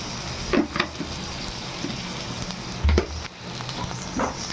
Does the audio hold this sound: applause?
no